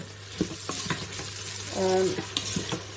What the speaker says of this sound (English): Add my salt in and give it a mix.